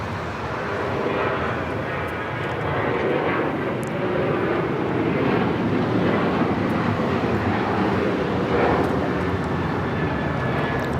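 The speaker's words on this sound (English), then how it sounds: "1627 taking off to Houston Intercontinental on the 737-900ER" A United Airlines Boeing 737-900ER takes off from Los Angeles bound for Houston Intercontinental, its engines producing a loud, rushing roar that swells gradually as it climbs away, with no voices over it.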